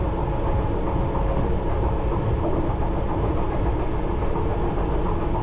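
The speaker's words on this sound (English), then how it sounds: "This train has actually got flat wheels, I can hear them." A London Underground Piccadilly line train with flat wheels rolls along at a constant loud rumble, its wheels thumping and clacking steadily on the rails from start to finish, with no speech.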